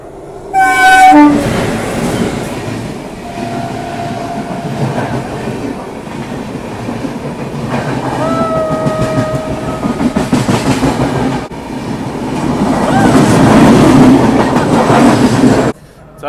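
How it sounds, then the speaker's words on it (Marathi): The Netravati passenger train rumbles past with loud wheel clatter, sounding a long horn several times at close range, with no voices present. "नेत्रावती ट्रेन आहे"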